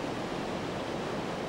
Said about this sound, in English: In Neuhausen, Switzerland, the river falls a height of 23 meters across its full width.